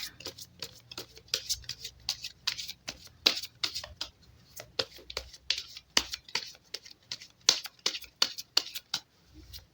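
Tarot cards shuffled by hand in rapid riffling bursts, a crisp papery patter of flicks and snaps repeating irregularly throughout, fairly close and with no talk over it.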